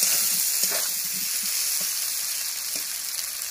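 Fried snails and elephant yam sauté in spice masala, a loud, continuous hissing sizzle with soft occasional stirring knocks underneath.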